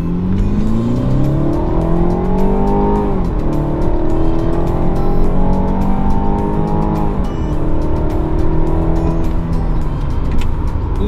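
A BMW 430i F32 accelerates hard in sport plus mode, its loud close engine note climbing through several gears with rising pitch and quick drops at each shift, under steady road noise.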